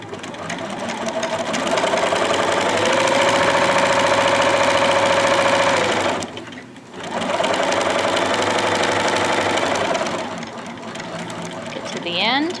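A sewing machine back stitching fabric hums with a rapid needle chatter, stopping briefly partway through before starting again and running on, close and fairly loud.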